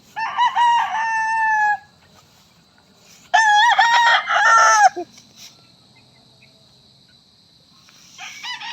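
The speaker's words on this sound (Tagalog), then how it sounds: "Ito po yung ating mga nakataling manok" A rooster crows twice nearby, long loud calls separated by a pause, with faint clucking from tethered chickens and background bird chatter.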